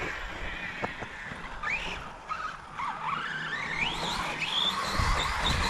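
A Redcat Kaiju RC truck drives and slides, its small motor whining up and down in pitch while the tires skid and scrub over the ground, close by, with no talking.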